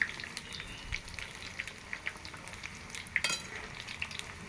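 Luchi, a puffed flatbread, fries in hot oil, a faint continuous crackle and sizzle with small pops and occasional utensil clinks, no talking.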